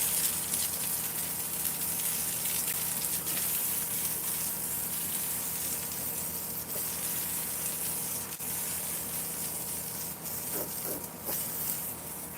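Water runs steadily from a tap during washing up, a constant close gushing hiss that holds for the whole stretch without pause.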